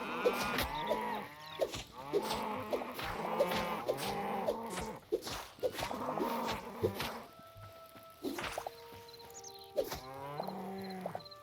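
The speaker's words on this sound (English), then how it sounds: "Come here, cow." A cow in the video game Hytale moos repeatedly in long, loud bellowing calls, interspersed with a buzzing insect-like drone and short game effect sounds, with no talking.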